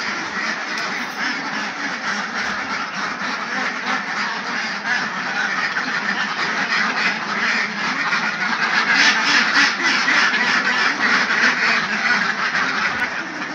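A dense flock of ducks and muscovy ducks, about eleven hundred birds, quacks continuously and loudly near rice paddies, a constant chattering chorus with no pauses.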